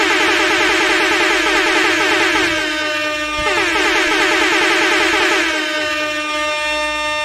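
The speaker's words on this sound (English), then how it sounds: "gonna hit that air horn like an MF for you" A loud, sustained air horn blast blares continuously for several seconds, its brassy tone holding steady with slight wavering.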